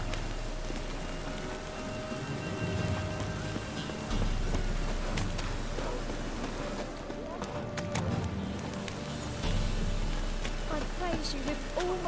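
Steady rain falls in the open-world video game Witcher 3, a constant hiss of drops on surfaces with faint hoof-like clopping, running under game voices throughout.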